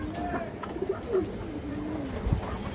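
A large male Gorra pigeon coos nearby in low, wavering phrases with a few soft throaty pulses, faint handling noise around it and no voices.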